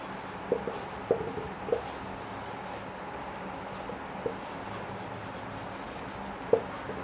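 Chalk or marker writing on a board in a classroom lesson, a few soft scratchy strokes with sparse taps spread over several seconds against a quiet room hiss.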